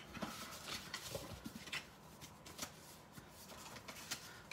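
Paper note cards are folded and handled at a live stamping craft demonstration. A faint papery shuffling and rustling comes in quick bursts, quiet and close.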